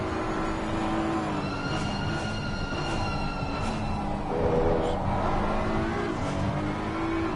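BMW and Porsche GT race cars lapping Imola in Assetto Corsa Competizione on PS5, with a steady high-pitched engine drone, rising and falling revs through gear changes, loud and continuous with no voices.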